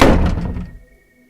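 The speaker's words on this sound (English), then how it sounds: "the door slammed shut in his face" A heavy door slams shut with one loud, close thud that rings briefly and dies away into silence.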